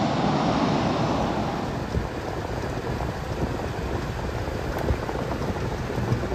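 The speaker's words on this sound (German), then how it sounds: "Der Regen ist so stark, dass der Scheibenwischer das eben nicht mehr weggekriegt hat." Torrential rain pelts a car stopped on a road trip, so heavy the wipers could not clear it; a dense, continuous close drumming and hiss on the roof and windows, loud and unbroken, with no voices.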